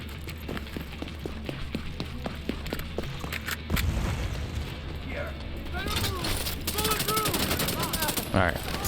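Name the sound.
machine gun firing in the video game The Division 2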